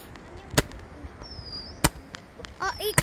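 Fireworks go off in the night sky as several sharp, separate bangs and crackles, with a rising whistle between them and faint voices in the background.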